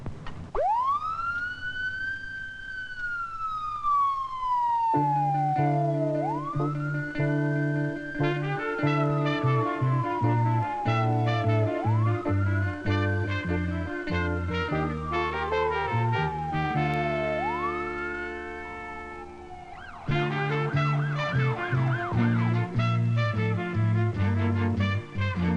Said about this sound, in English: A police car speeding past with its lights flashing and its siren wailing.